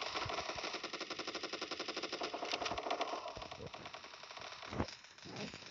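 A shooter video game fires rapid automatic bursts of gunfire, close and clattering at first, then thins out into scattered shots.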